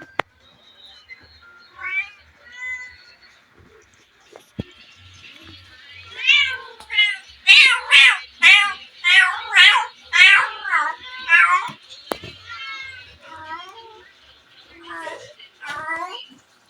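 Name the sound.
cat in heat yowling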